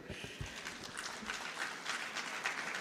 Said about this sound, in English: You can do a better job by putting your hands together.